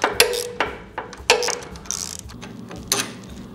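A wrench works loose the 14 mm bolt and 17 mm nut on the front suspension knuckle of a Honda Africa Twin motorcycle, giving several sharp ratcheting clicks and metallic ticks spaced irregularly, close by with no talk.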